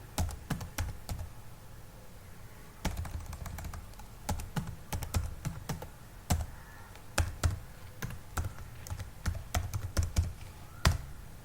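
Someone types a repository password on a computer keyboard, with irregular bursts of crisp key taps close by and short pauses between strokes, no talk.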